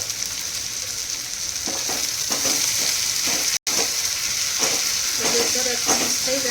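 Garlic chutney fries in a pan for smoky baigan bharta, a steady loud sizzle with repeated scraping stirs of a spoon against the pan, broken by one brief dropout midway.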